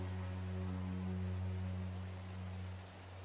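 Steady rain hisses without a break in the video game Path to Nowhere, during its Rain Burst event, over a low tonal hum.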